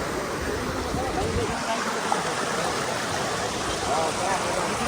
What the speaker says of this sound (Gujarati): વાહ ઝરણા વાહ